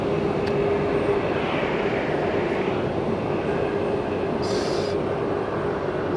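A Skymark Boeing 737 MAX at Fukuoka Airport produces a loud, steady, broadband jet roar with a faint high whine. The sound holds constant over several seconds and carries no speech.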